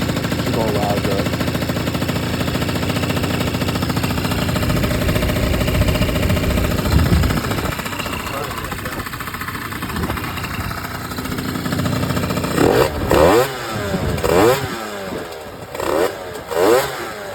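A tuned naturally aspirated Ford Crown Victoria P71 engine runs loud and close with a rough idle and revs, followed by sharp staccato pops and bursts toward the end. A voice talks over it.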